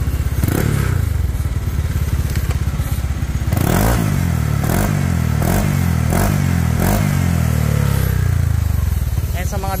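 A Honda Click 160 scooter with a JVT v3 re-elbowed exhaust pipe on a tuned engine revs hard in a series of loud, close blips, rising and falling roughly every half second, with occasional mechanical clatter.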